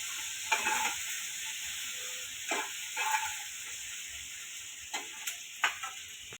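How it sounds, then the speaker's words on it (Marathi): Dry roasted masala for a potato and pea curry being scraped out of a pan onto a plate, with a faint background sizzle and several distinct scraping strokes and clinks of a spoon against the metal. "आता मी गॅस बंद करते आणि हा मसाला एका ताटात काढून घेते"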